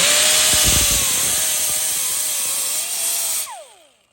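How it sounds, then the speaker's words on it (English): A loud, close power tool with a sanding pad grinds a metal 6R80 transmission adapter continuously with a whining tone, then winds down and spins to a stop near the end. "take a little sanding pad and grind it down just a little bit"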